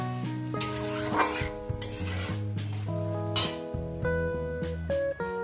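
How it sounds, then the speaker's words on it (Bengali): Cabbage and other vegetables being stir-fried in a kadai over a medium gas flame, with steady sizzling and a metal spatula scraping and clinking against the pan, close and fairly loud under a continuous tonal background. "এবার এটাকে আমি প্রায় 2-3 মিনিট ধরে এটাকে মিডিয়াম গ্যাসে কষিয়ে নেব।"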